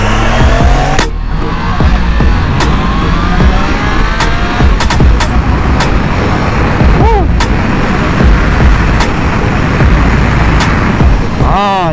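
A Triumph Trident 660 motorcycle rides on a road with a continuous loud engine drone and wind rush, sharp clicks scattered throughout, and a few rising tone sweeps near the middle and end.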